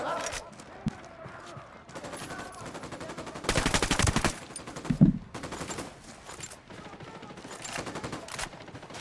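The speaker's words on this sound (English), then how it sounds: "I'm opening fire." Sustained automatic gunfire and scattered shots ring out in a Ghost Recon tactical shooter firefight, with heavy bursts midway, while a player talks over the shooting.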